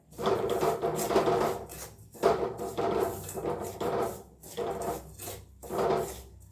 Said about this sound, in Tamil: ரவாவை சேர்த்து நல்லா வறுத்து எடுத்துக்கலாம்